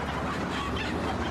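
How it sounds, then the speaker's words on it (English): Cartoon chickens in a Looney Tunes episode give a brief burst of clucking and squawking, dense and fairly loud, heard on their own for a moment. "Oh, there's some chickens."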